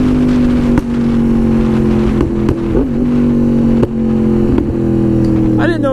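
A Yamaha MT-10 motorcycle accelerating hard enough to lift its front wheel, a loud steady engine drone with brief gear-change dips, heard up close from the rider's position under wind noise, with a rider talking over it.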